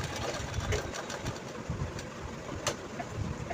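Close-up sewing machine stitching a girl's Anarkali frock, with a continuous motor whir and rapid needle chatter at a moderate, even level and no voices.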